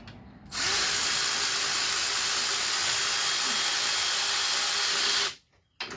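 A right-angle power tool spins out a bolt on a Euro R-swapped Honda Accord. It gives a loud, steady, close-up whir that runs for about five seconds and then cuts off abruptly.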